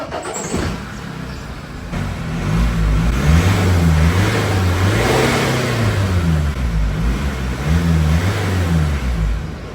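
BMW E91 wagon engine and stock exhaust revving hard, a loud, steady drone with rising and falling revs in repeated swells, heard close up with no talk.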